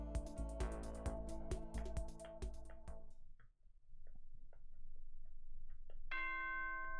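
A chiming bell tone from the Danganronpa video game, a run of struck tonal notes with strong harmonics over about three seconds, then quiet, then a sustained bright electronic tone starting near the end.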